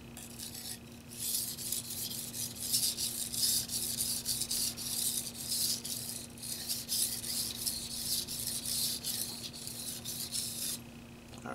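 Tojiro kitchen knife drawn repeatedly across a whetstone, a steady close rhythmic scraping rasp that continues for about eleven seconds under a constant low hum.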